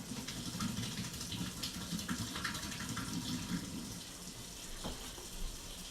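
Kitchen tap water running steadily into a sink to rinse raw chicken, a continuous splashing gush with small clatters and one sharp knock near the end, fairly close and without talk.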